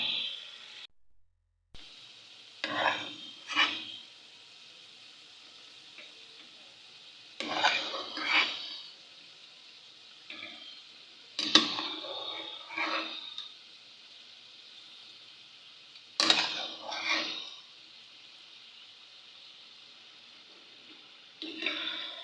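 Boiled turnip stirred into chicken masala in a cooking pot, a series of scraping, clinking strokes of a spoon against metal arriving in separate bursts a few seconds apart, close with quiet gaps between them.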